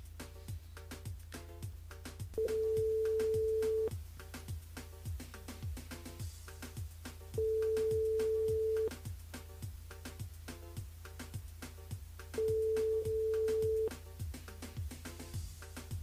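An outgoing phone call's ringback tone sounds three times, each a steady beep about a second and a half long, spaced evenly over a faint rhythmic background beat.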